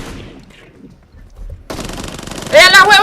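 Gunfire in PUBG Mobile comes as a sudden loud burst of rapid automatic shots after a quiet stretch, close and harsh, while players talk over the game audio.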